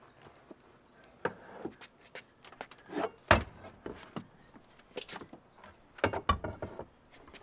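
A bucket seat being fitted into a BMW E46 budget drift car: intermittent thuds, knocks and metallic clunks with rustling and shuffling, irregular and close, as the seat is manoeuvred into the cabin without talking.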